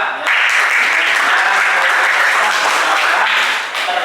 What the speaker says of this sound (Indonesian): Tepuk tangan untuk Mbak Alifah.